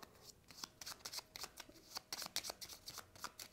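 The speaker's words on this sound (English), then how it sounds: "begin by taking the puffin cards, giving them a good shuffle" A deck of Pocket Puffins game cards being shuffled by hand, with a quick series of crisp riffling flutters and soft snaps close by, with no talking.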